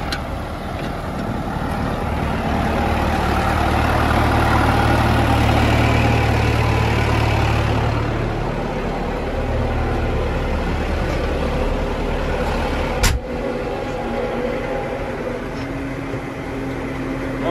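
A New Holland TD110D tractor engine runs steadily in a corn field, a loud, continuous low rumble that eases slightly partway through, with one brief sharp knock near the end.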